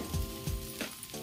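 Sabudana khichdi made with rock salt cooks in a pan over a low flame, a soft, quiet sizzle with a few light scraping stirs.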